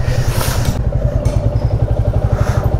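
A 2023 TVS Apache 160 4V motorcycle runs close by with a loud, steady, rhythmic engine thump, its pulsing exhaust beat continuing throughout.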